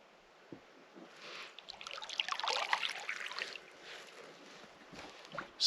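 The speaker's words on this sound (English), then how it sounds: "the sound of the paddle" Canoe paddle dipping into calm lake water, soft splashes and trickling drips rising into a gentle swirl of water before fading, quiet and close with little else around.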